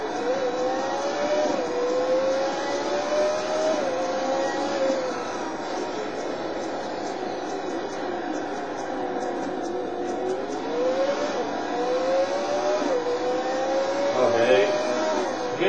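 Race car engine in the Total Immersion Racing video game, a continuous droning whine that rises and falls in pitch as the car accelerates and lets off, with a faint voice underneath.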